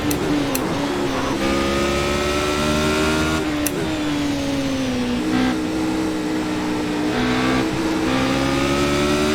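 A Radical SR8 V8 race car in the iRacing simulator, lapping the Nordschleife, with a loud, close high-revving engine whine rising and falling through gear changes, sharp shift blips and brief tyre noise throughout, no voices.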